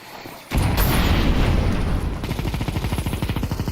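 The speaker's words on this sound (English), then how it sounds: "Let's throw the grenade!" A grenade explodes in a Counter-Strike match: a sudden loud, broadband boom at the start swells into a sustained rumble, followed by rapid rhythmic gunfire bursts.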